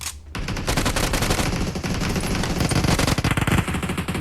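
Rapid bursts of MK14 rifle fire in PUBG Mobile: dense, loud automatic-sounding gunshots in quick succession, continuous across the few seconds with no talking.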